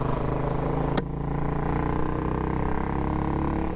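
A 2012 Royal Enfield Classic 500 motorcycle runs steadily close by, its single-cylinder engine and exhaust giving a continuous low throb, with one sharp click about a second in.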